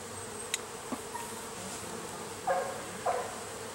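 Honey bees buzz steadily at a hive after a swarm that settled in a bush, a faint continuous hum with a few brief, louder buzzes as individual bees pass near.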